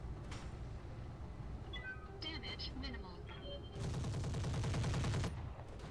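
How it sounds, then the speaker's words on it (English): Machine guns fire in a video game, a rapid, dense rattling burst near the end following scattered electronic beeps and impacts, with faint talk underneath. "Machine guns."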